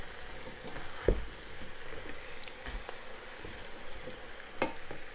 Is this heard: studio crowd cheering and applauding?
no